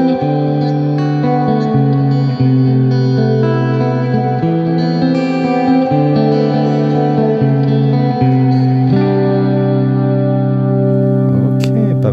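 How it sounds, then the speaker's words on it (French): Sustained guitar notes ring out through a reverb pedal with decay turned to maximum, each chord blooming into a long, shimmering, metallic tail that overlaps the next. "Si on pousse le decay à fond, jusqu'où ça va ?"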